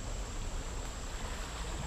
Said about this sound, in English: Man, that water sounds cool.